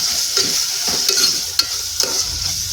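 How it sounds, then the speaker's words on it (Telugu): A spatula stirs onions seasoned with salt and turmeric in a cooking pan for a North Indian curry. A soft sizzle runs underneath a few close, scraping strokes, with no talking. "ఉల్లిపాయలు మగ్గనిద్దాము కూరకు సరిపడినంత ఉప్పు పసుపు వేసాము ఇప్పుడు తిప్పేసుకోవాలి"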